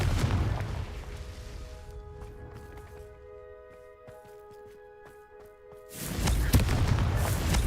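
Confringo fire spell in Hogwarts Legacy bursting in a loud, rumbling explosion at the start, dying into a quieter ringing tail with faint crackles before a second heavy blast roars in near the end.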